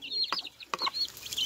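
Young chicks peeping and clucking while being fed mealworms, a few short close chirps and clucks in quick irregular bursts over light background noise.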